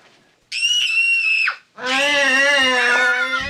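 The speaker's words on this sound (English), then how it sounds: "There's going to be a three-way screaming match." People on a film set scream together in two loud, sustained, high-pitched bursts, a shorter one followed by a longer one, separated by a brief gap.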